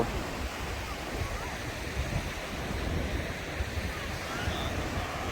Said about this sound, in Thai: ลมเย็นสบายสบายครับ